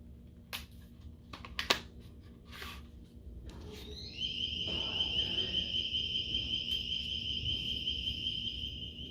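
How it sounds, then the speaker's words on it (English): A restaurant side-door alarm shrills as a steady high electronic tone that starts partway through after a few sharp clicks and knocks, and then holds on at moderate distance. "So if you open up the side door, the alarm goes off"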